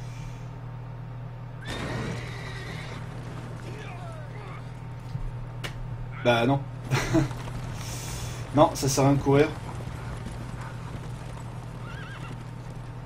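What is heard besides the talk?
horse neighing and hooves in video game The Witcher 3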